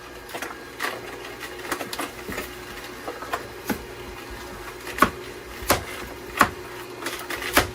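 A Canoly C16 cold press juicer works through a batch of carrots, giving sharp, irregular cracks and clicks at close range over a low, quiet motor hum.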